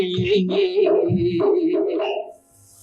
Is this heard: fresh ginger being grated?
no